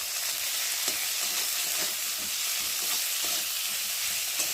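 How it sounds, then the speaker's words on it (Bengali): Spice masala with tomato frying in a pan, a loud, continuous close sizzle with faint scraping stirs now and then, no voice heard. "একটা টমেটো কষি দিয়ে মশলাটাকে ভালো করে কষিয়ে নেব"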